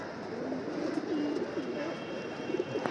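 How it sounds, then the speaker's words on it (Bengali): Pigeons bathing coo softly in a brief, low, rolling murmur that sits faint against steady outdoor background noise. "ওই 2-3টা কবুতর গোসল করতেছে, বাকিগুলো ঝামেলা করতেছে"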